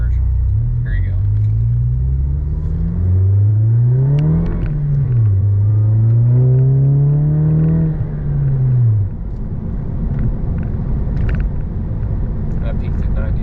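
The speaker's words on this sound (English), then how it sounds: "This is the dual muffler Stealth turbo back exhaust." A car with a Baun Performance dual-muffler Stealth turbo-back exhaust revs up close by. The deep exhaust note climbs and falls in several swells, then settles to a low, rumbling idle.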